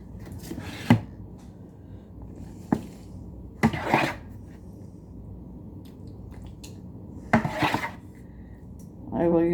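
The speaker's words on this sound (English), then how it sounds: "it's just to spoon the mixture on top" A serving spoon scoops spaghetti casserole mixture with mozzarella and spreads it on top. A few separate clinks and soft scrapes come a second or two apart, close by, with faint room noise between them.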